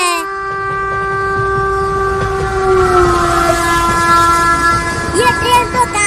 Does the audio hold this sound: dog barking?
no